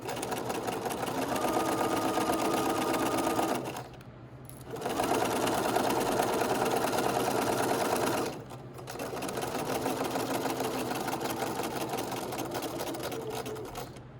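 Sewing machine stitching a shirt collar sample, running in three steady buzzing bursts separated by brief pauses, close and even in speed.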